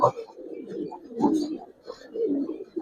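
Giribaz pigeons coo softly and repeatedly inside a loft, low throaty calls rising and falling across the moment with a faint background murmur.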